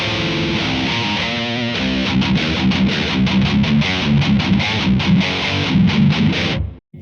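A heavily distorted electric guitar through a Blackstar amp plays loud, gritty chords and riffs with rhythmic chugs, continuous for several seconds before cutting off abruptly.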